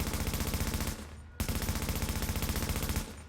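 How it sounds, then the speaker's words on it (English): Automatic rifle in the online shooter The Division rattles off two long, steady bursts with a brief gap between them, loud and close, with no talking. "When we pop our steady hands and shoot this gun"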